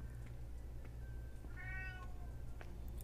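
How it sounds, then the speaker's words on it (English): A pet cat meows once, a short rising-falling complaint heard nearby over a steady low hum of background noise. "My cat's complaining."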